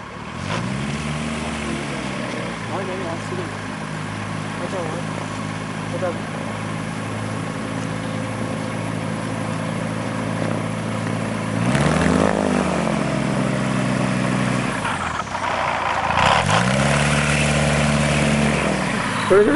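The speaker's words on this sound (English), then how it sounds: "full engine run-up check." A propeller aircraft engine during a full run-up check for the Eagle KC-612 test, droning steadily and loud, with the pitch swelling and dipping in a few surges; voices talk over the engine at times.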